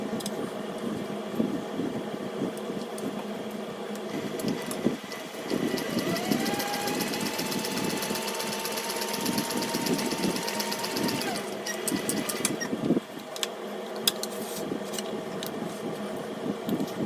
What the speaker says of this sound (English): and now I'm going to sew this.